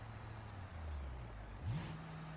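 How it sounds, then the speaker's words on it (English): A car engine in the BeamNG driving game blips and rises in pitch as a downshift is rev-matched, a smooth low drone climbing briefly then settling, heard alone at moderate level. "that's like a rev match"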